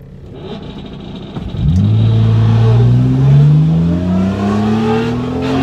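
A 2003 Mitsubishi Eclipse GTS launches on a drag strip pass with its engine revving loud and near. The pitch climbs steadily through the gear as the car pulls hard, with no talking.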